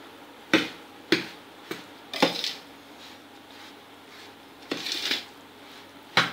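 A spoon stirs a rava and besan mixture with homemade ghee in a pan for ladu, striking the metal in sharp, scattered clinks and scrapes, about eight strokes with quiet gaps between.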